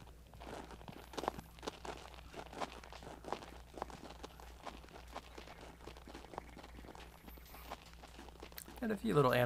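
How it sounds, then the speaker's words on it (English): Soft, steady footsteps crunch across snow in the Second Life virtual world, faint and evenly paced, followed by a louder burst of noise at the very end. "it sounds like we have the snow effects on the ground crunching about"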